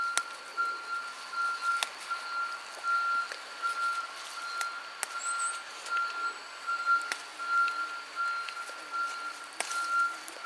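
Repeated reversing beeps from a lorry behind a garden, faint and distant, pulsing evenly over a low steady background with occasional small knocks close by.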